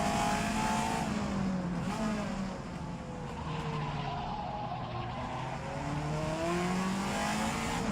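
A sim racing car laps the Targa Florio road course, its engine rising and falling through gear changes in repeated sweeping pitches, with tire squeal mixed in, heard close and continuous with a brief dip midway.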